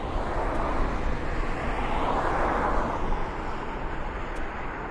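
Aircraft taxiing at East Midlands Airport, a broad steady jet rumble and roar heard from a distance, swelling slightly midway as it moves, with no talk over it.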